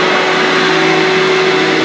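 A shop vac runs at close range during fiberglass repair prep, a loud, steady motor whine and airflow roar with a sustained hum, holding constant for the whole stretch with no talking.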